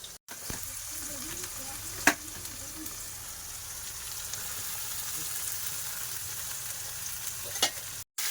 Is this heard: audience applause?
no